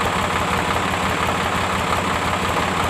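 A Ford 345D tractor's diesel engine idles nearby, a loud, steady chugging rumble with a regular knocking pulse and no voices over it.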